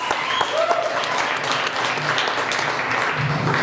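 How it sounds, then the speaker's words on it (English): A comedy club crowd applauds the headliner, Bob Meadows, with sustained, dense clapping and scattered cheers at fairly even volume. "Please give a big round of applause for your headliner tonight, Mr. Bob Meadows."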